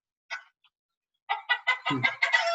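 A hen clucks in a quick series of sharp, rising calls after a single opening squawk, close and clear with no talk.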